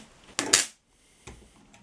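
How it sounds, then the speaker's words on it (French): A Vevor spot welder joins two copper wires with two sharp snapping cracks in quick succession, then a fainter crack follows after a short silence, all close and crisp. "Par exemple, souder deux fils de cuivre ensemble."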